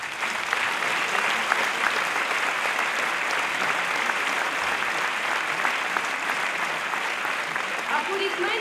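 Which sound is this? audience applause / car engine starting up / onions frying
audience applause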